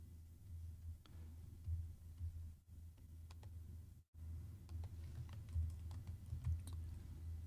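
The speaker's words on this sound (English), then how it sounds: "I can press this combination, Shift, Alt, and Q." Several light computer keyboard key presses for a key combination, scattered sharp ticks over a steady low room hum, close and fairly quiet with no talking.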